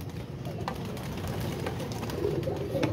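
Pigeons cooing and fluttering close by, a low continuous murmur of several birds with soft wing flaps, no talking.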